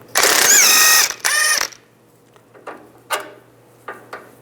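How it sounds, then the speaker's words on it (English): A ratchet with a 17mm socket spins off a sway bar link nut on a 2005-15 Nissan Xterra front strut, two loud rapid clicking bursts, then scattered lighter metallic knocks and clinks. "Use a 19mm wrench on the back side of here to keep the stud from spinning, and then a 17mm socket. Take this nut off."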